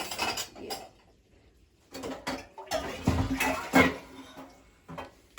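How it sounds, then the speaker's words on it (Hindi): Steel tea pots and dishes clatter and clank as they are loaded into a dishwasher, with a few bursts of metallic knocking separated by quiet gaps, close and fairly loud. "ये भी देखो भाई, चाय के पतीले, आज दिन में जो ना कई बार चाय बन गई थी।"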